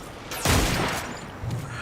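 One sharp, loud hand cannon shot in Destiny 2 booms and decays over half a second. A smaller thump follows about a second later.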